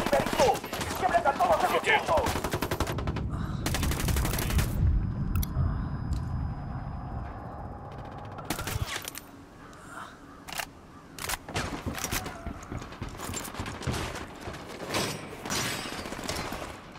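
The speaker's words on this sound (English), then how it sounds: "I'm shooting these fuckers." Gunfire in the video game Ghost Recon Wildlands comes as sharp, loud bursts and rapid volleys, heavy at first and then in scattered, intermittent shots with quieter gaps between them.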